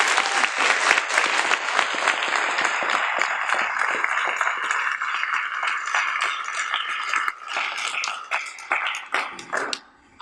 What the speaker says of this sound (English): Clap for my mama, y'all.